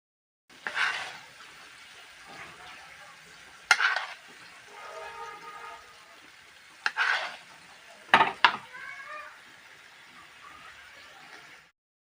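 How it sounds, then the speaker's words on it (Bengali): Rupchanda fish fries in hot oil, giving several separate bursts of loud, close sizzling with quieter gaps of low crackle between them and no talk. "তো মাছের ভাজাটা হয়ে আসছে, এবার আমি ওপিট ওপিট করে আরও কিছুক্ষণ রান্না করে নেব।"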